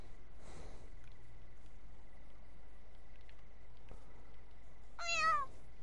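A pet cat gives two short meows indoors, one faint and early, the other a clearer, higher, wavering meow near the end, over a quiet room hum with a few soft clicks and no talking.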